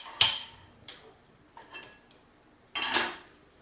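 A metal pot is set down on a kitchen stove while sweet rice is being made, giving a few sharp clanks and knocks spaced apart, with a last louder rattle near the end.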